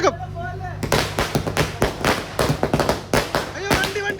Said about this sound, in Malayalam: മാലപ്പടക്കം.